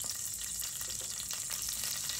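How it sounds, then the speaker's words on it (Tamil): Cinnamon, star anise and bay leaves fry in melted oil and butter for a Punjabi rajma masala, giving a steady, close crackling sizzle with no talk. "நம்ம தாளிக்கு எடுத்து வச்சுருந்த பட்டை, 2 அன்னாசிப்பூ, பிரிஞ்சி இலை 3 சேர்த்து இதில் தாளிச்சிடலாம்."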